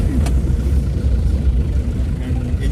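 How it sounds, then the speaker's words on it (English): Loud, steady engine rumble of an Ambassador car, a heavy low drone with vibration running throughout, close and continuous with no clear gaps. "and engine sound is very loud"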